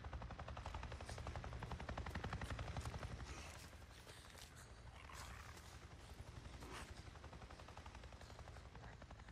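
A helicopter in the game Days Gone passes directly overhead, its dense rapid rotor chop loud and steady, easing slightly as it moves off; no one speaks.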